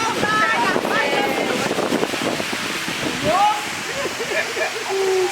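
A waterfall in the Eastern Cape hills roars as a steady broadband rush, mixed with gusting wind noise on the microphone, while people talk over it.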